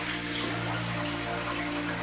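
Warm water running steadily from a tap while a shaving brush is rinsed, a continuous close splashing wash with no talk.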